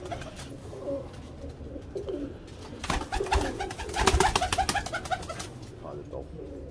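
Teddy pigeons coo and flutter while being handled, low rumbling coos with bursts of wing flapping, heard close and alongside quiet speech.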